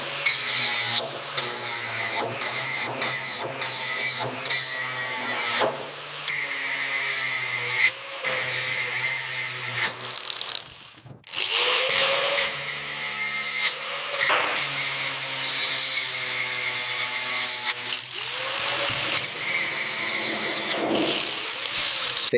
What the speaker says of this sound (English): Uses angle grinder with wire wheel across broader surfaces.